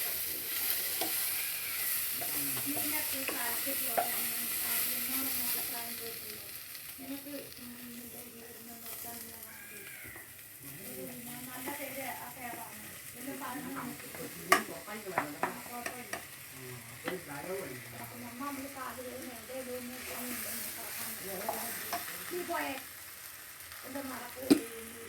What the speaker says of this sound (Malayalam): ഉരുളക്കിഴങ്ങ് വെള്ളം ഒഴിച്ചിട്ട് ഇളക്കി ഗൈസ്.